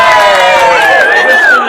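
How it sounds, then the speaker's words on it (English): A crowd cheers at the 2006 Canadian federal election results for Steven Fletcher, a loud, dense roar of voices with a rising shout that swells and then eases slightly near the end. "That's a cheer."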